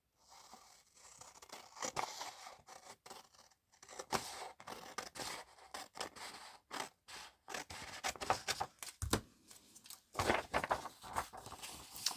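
Scissors snip through journal paper in a quiet room, a run of short crisp cuts and rustles with brief pauses, close and fairly soft, no talking.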